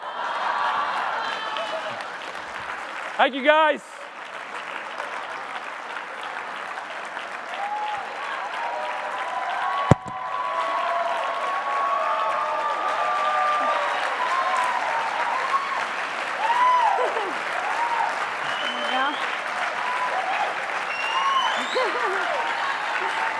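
Conference audience at IZEAFest 2015 giving a speaker a long round of applause and cheering, a sustained dense clapping wash lasting over twenty seconds, with a voice thanking the crowd early on and whoops rising through it.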